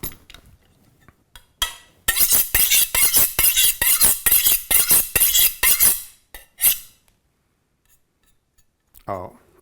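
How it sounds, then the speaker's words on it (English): A kitchen knife is drawn over a sharpening steel. Crisp metallic scrapes come in a quick rapid series, about a dozen close strokes in even rhythm, with a few softer strokes before and after and a brief voice at the end. "I need a little bit more edge on my knife, so let's get the steel out"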